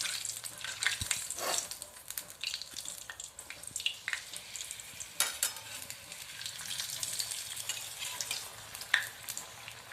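Bread patties fry in a pan over a low gas flame, giving an uneven, crackling sizzle with scattered pops and stirring scrapes, fairly close and unaccompanied by talk.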